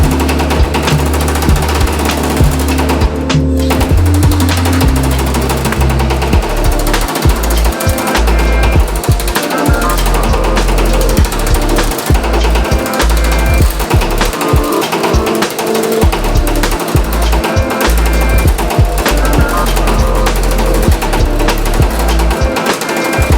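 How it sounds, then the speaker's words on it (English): A power hammer shrinks a sheet metal car panel in a loud, rapid, continuous mechanical rhythm, with a low droning hum running beneath the blows. "we're gonna go back to the power hammer, shrink on our blue lines here"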